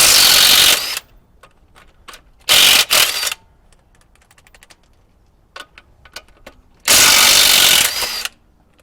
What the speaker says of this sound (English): I don't see a problem taking these off with an impact gun.